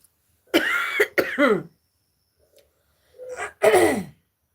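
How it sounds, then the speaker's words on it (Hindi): Several harsh throat-clearing coughs from a woman in two bursts separated by a pause, close and fairly loud, with no talking. "खांसी तो मैं परेशान हो गई हूँ"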